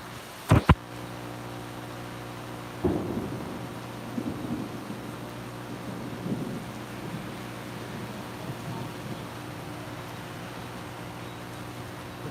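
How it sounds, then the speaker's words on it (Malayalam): Steady rain falling on a Kerala roadside during a downpour, a continuous hiss with two sharp cracks early on and a softer thump near three seconds, with no voices. "അങ്ങനെയുള്ളൊരു മഴയാണ് ഇപ്പോൾ ഇവിടെ തന്നെ പല ഭാഗത്തും ഇല്ല പല ഭാഗത്തുണ്ട്"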